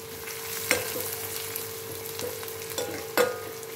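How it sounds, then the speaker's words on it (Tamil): Onions sizzle in a pan for a Tamil mango dal side dish, a soft steady frying hiss punctuated by a few sharp clinks of a spoon stirring against the pan. "வெங்காயம் நல்லா வணங்கட்டும்."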